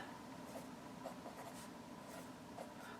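A pen writing out a matrix for a lesson on finding a matrix inverse: faint, soft scratching strokes with small taps, steady and quiet with no talk.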